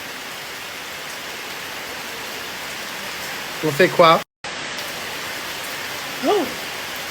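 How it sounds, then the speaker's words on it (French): Steady heavy rain hiss fills the background throughout in Thailand, with a brief spoken question and a short vocal sound rising over it. "crise d'angoisse avec une pluie battante comme ça."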